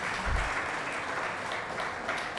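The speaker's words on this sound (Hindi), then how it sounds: "तालियां कंजूसी क्यों करते हैं आप लोग।" Audience applause at an awards open-mic event, a steady wash of many hands clapping at moderate distance, sustained and even throughout without pauses.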